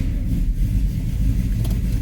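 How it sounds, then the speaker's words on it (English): A 1972 Plymouth Duster's engine idles with a deep, steady, close rumble, continuous and fairly loud, with no voices. "Every time I've got in this thing, it starts with the flick of a key."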